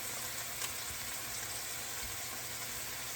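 A chicken breast fries in a pan with a little butter, giving a steady, faint, even sizzle with soft crackles throughout and no voices.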